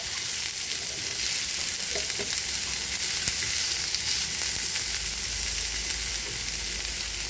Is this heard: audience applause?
no